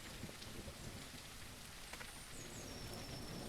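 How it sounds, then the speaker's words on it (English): Steady rain falls throughout in a Yosemite forest ranger video game, a dense continuous hiss with faint rumble beneath and no talking. "No, it's raining."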